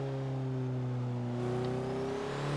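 Steady engine drone with a rising whine, continuous and loud throughout, like a turbocharged Ford Focus RS spooling up in Forza Horizon 3.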